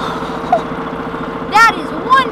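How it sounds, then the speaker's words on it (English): A Mack semi truck engine idles with a steady, throbbing low rumble that pulses evenly throughout, while a voice talks over it in short bursts. "Listen to this engine."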